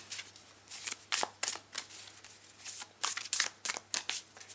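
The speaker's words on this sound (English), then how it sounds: "shuffle the cards again" Tarot cards are shuffled in quick bursts of riffling and sliding, close and fairly quiet, repeating irregularly with short pauses between.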